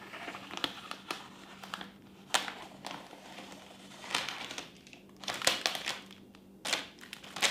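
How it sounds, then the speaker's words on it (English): Blade snipping and slicing through excess carbon fiber vinyl wrap on BMW F30 interior trim, a run of close crisp cuts and crinkling vinyl rustles at uneven intervals, with no talk. "Just be very careful and just cut some of that extra off"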